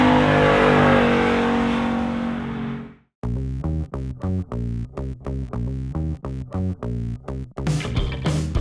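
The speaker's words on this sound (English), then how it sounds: "Ford retuned the exhaust for 2018 because one of the biggest customer complaints was that the GT just was not loud enough." Ford Mustang GT V8 from 2018 with retuned exhaust, first a loud sustained roar, then a sudden cut to a rapid series of sharp, evenly spaced revs and blips, ending in another loud surge, close and without talk.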